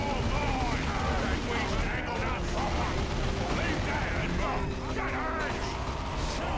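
Gunfire and battle noise from units in the real-time strategy game Dawn of War 2, during a 1v1 match, a dense continuous clatter of shots and mechanical effects with in-game voice lines over it.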